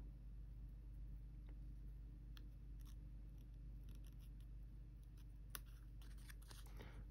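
Scissors cutting wavy lines in paper or card for a miniature apartment model, heard as faint, irregular snips and crisp cuts against a steady low background hum, with no talking.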